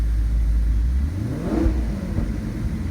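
Exhaust of a 2014 Maserati GranTurismo Sport Convertible in standard mode, a steady low engine drone that swells into a brief rev near the middle before settling back, recorded close by through a phone.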